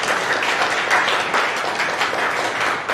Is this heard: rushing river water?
no